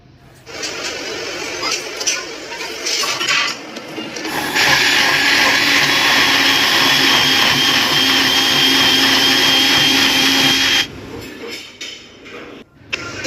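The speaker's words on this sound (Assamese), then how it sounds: "গ্ৰেভিটো পিচিবলৈ এতিয়া এটা মিক্সি জাৰ ল'লোঁ ধুনীয়াকৈ এইটো পিচি ল'ম" A mixer grinder jar grinds masala gravy for paneer butter masala with a loud, steady whirring roar that lasts about six seconds. Clatter and handling noises come before and after it.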